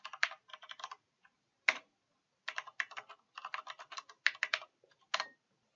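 Keys clatter on a computer keyboard in quick clusters of taps separated by brief pauses, close and fairly quiet with no one speaking.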